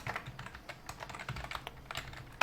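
Close, quick typing on a computer keyboard, a steady run of light clacking keystrokes with no talk.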